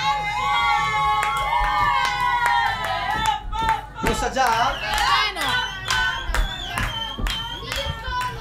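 Wedding guests cheer, shout and clap at a bride's celebration in Lonato, a loud crowd with children's voices and scattered applause bursts, while people talk over it.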